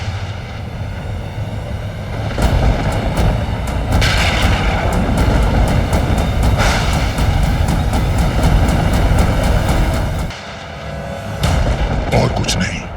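Deep, continuous rumbling thunder rolls from the clouds in a TV drama sound effect, loud and sustained, with sharp cracks layered on top before it briefly dips and swells again.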